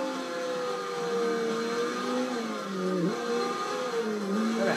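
A motorcycle engine revs in the PS2 game Headhunter, its steady buzzing drone rising and falling in pitch as the bike accelerates and eases off, continuous and fairly loud with no talk over it.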